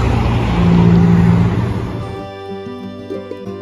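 An electric car pulls away from a charging stop at a shopping-centre parking lot, with a smooth rising motor and road noise that fades out after about two seconds, leaving quieter background sound.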